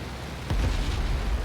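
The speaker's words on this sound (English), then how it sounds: "And there's an artillery blast" A single heavy artillery blast in a flight combat game set over a trench, a sudden deep boom that rumbles on for about a second.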